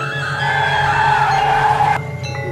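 A car skids to a sudden stop, a loud sustained tire squeal that cuts off abruptly near the end, leaving a brief fading tail.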